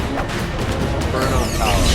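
Dense battlefield explosions from the online shooter MAG, with thudding blasts and crashes layered into a constant loud barrage of grenade fire throughout, while a voice talks over the din.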